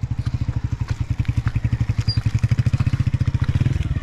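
Motorcycle engine on a rainy mountain road near Sehnsa, Azad Kashmir, giving a steady, rapid low thumping pulse that stays loud and close throughout, with no talk.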